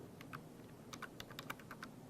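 Light, quick typing on a computer keyboard while entering data into a MySQL database, heard as a faint, rapid run of small key clicks with no voices.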